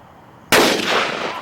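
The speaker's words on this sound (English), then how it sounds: "I got 3 more shots and that pumpkin is mine" A single loud gunshot fired at a pumpkin cracks out sharply after a quiet moment, its blast trailing off into a broad, ringing decay close by.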